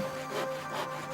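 Wood is sawn in short rasping back-and-forth strokes, close by, with a faint steady hum underneath.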